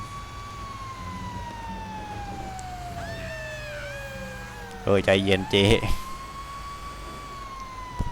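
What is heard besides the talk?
vehicle siren switched on in video game GTA Online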